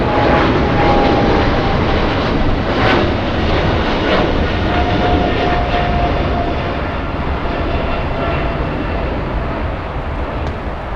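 An airliner flies past at Los Angeles International Airport with a loud, steady jet roar that slowly fades toward the end, and no voices over it.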